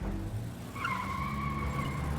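Car tires skid in a long, sustained squeal on a street as someone walks out into traffic, a steady screech over a low engine rumble that holds loud for a couple of seconds.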